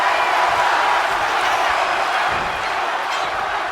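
A wrestling arena crowd at a championship match roars in a steady, loud wash of cheering that sustains with little change from start to finish.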